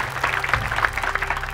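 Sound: audience applauding Ganjar Pranowo

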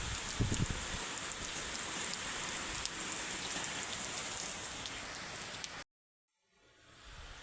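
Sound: heavy rain falling outside

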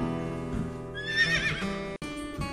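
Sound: horse neighing and hooves

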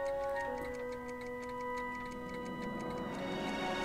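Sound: cat clock ticking in video game Back to the Future

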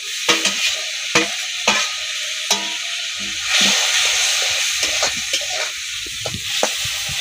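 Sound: water added to frying pan, sizzling

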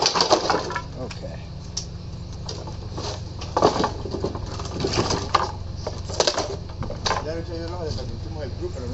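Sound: smashing up large pieces of junk during house clean-out

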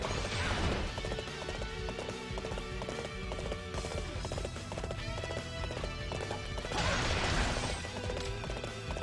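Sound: horse hooves clip-clopping in a video game, Dynasty Warriors 8

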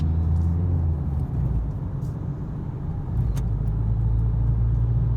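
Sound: car accelerating and shifting into third gear

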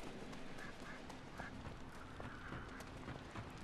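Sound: duck quacking in Risen 3 video game

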